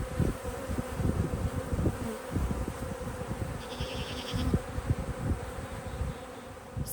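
Swarm of honey bees flying busily around a crowded backyard hive, a dense, steady buzzing drone close to the listener with insects zipping past, no voices.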